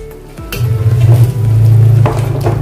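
Potato pieces drop into a pan of frying chole masala, setting off a loud close sizzle with scraping and stirring of a spoon against the pan.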